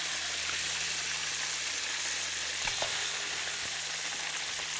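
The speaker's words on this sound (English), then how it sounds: "Sizzling away, Rolf, sizzling away." Yellow perch sizzles and crackles steadily in a hot frying pan, a constant close hiss with a few soft clinks, no voices over it.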